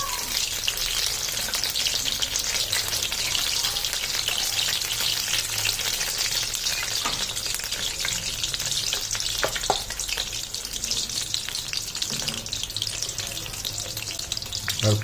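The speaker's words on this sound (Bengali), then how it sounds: "তাহলে ফুলকপিগুলো ভালোভাবে ভাজা হবে, ভিতরটা কাঁচা কাঁচা ভাবটা থাকবে না" Battered cauliflower pakoras frying in oil over a low flame, a dense continuous bubbling sizzle with occasional crackles and stirring clicks throughout, close and steady.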